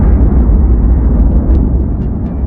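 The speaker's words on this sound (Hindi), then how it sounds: "बीच के इस भयंकर दबाव के कारण एक विशाल विस्फोट हुआ" A deep, roaring explosion sound effect for the birth of the sun rumbles loud and continuous throughout, heavy in the low end with no break.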